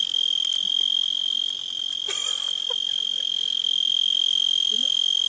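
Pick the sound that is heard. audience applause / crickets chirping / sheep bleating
crickets chirping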